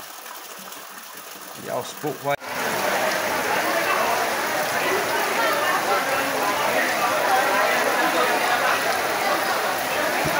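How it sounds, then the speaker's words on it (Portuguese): Light, fine soaking rain falls steadily in Triunfo in Brazil's Nordeste, a continuous soft hiss that sets in after a brief spoken remark and holds evenly to the end. "não é aquela chuva grossa, né, é aquela chuva fina"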